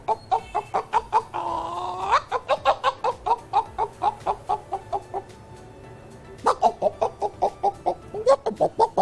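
A mimicry artist's voice imitates a clucking hen announcing a freshly laid egg, giving loud, close, rhythmic bursts of clucks with a drawn-out cackle early on and a short pause before the clucking resumes.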